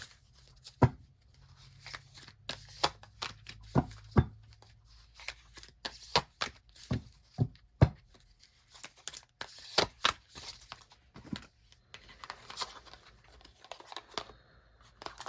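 Tarot cards are drawn and handled from a deck, a series of quiet, irregular papery snaps, slides and flicks, close up, with no talking.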